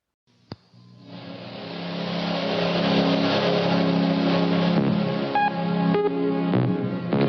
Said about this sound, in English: this 1984 Mercury Lynx with 5-speed manual transmission is a diesel